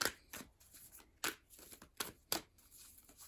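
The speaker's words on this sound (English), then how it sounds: "Give it one more good shuffle here." Tarot cards are shuffled in several quick riffling bursts with short pauses between them, close and crisp, with no talking.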